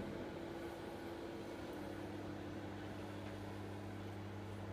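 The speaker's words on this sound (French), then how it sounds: "nous la mettons dans le micro-ondes. Celui-ci a une puissance de 600 watts et nous allons chauffer pendant 1 minute." A 600-watt microwave oven heating water hums steadily with a constant low electrical drone and fan noise, an unchanging mechanical tone throughout with no talking.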